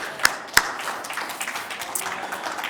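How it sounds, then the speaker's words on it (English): An audience at a public launch event breaks into applause, opening with two sharp, close claps before a rougher spread of clapping continues at moderate loudness. "Let's give them another round of applause."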